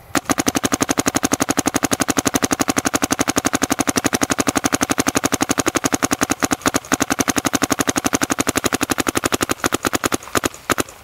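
A Dye DM4 paintball marker empties a pot of months-old paint in a long, rapid stream of evenly spaced loud pops, a steady machine-gun cadence that stutters and thins out near the end.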